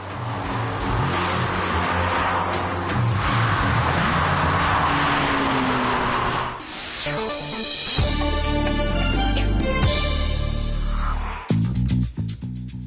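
A Mercedes SLK sports car of the latest model drives by with a loud, sustained engine roar that sweeps into a pass, then gives way to a deeper steady engine drone and an abrupt shift near the end, with no voices.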